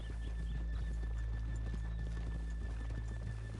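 Horses' hooves clip-clopping steadily on a town street in Red Dead Redemption 2, with a horse neighing, over a low constant rumble and faint background chatter.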